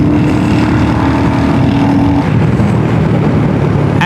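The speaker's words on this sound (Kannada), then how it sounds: "ಈ ಗಾಡಿ ಅಲ್ಲಿ ನೋಡ್ರಿ ಥರ್ಡ್ ಗೇರ್ನಾಗ ಹ್ಯಾಂಗೆ ಪಿಕಪ್ ತೋತು" A Royal Enfield Hunter 350 motorcycle pulls hard in third gear, its loud, close engine droning steadily with a rising tone, then shifting pitch partway through amid wind rush.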